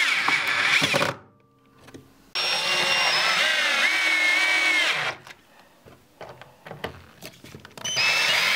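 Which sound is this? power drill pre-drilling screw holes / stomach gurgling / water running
power drill pre-drilling screw holes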